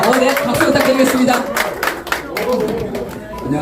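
An audience at a Korean political office opening ceremony breaks into applause, a burst of crowd clapping and chatter that rises under an announcer's amplified voice before fading.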